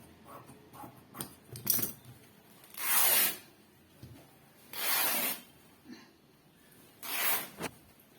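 Scissors cut blouse fabric for a back-open blouse, making three drawn-out rasping cuts at even intervals, preceded by softer handling rustles and clicks.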